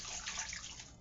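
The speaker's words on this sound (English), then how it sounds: "So I'm gonna put my water in the pot and everything." Water poured from a container into a cooking pot for a pot of pinto beans, a steady continuous splashing stream that runs close and fairly quiet for about a second with no talk over it.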